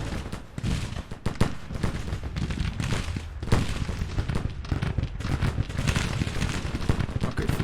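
Cannon and artillery barrages in Grand Tactician: The Civil War, a dense, continuous stretch of booming shots and crackling volleys at steady loudness with no talk.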